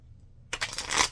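A quick riffle of playing cards being shuffled, a short rapid fluttering burst after a moment of quiet.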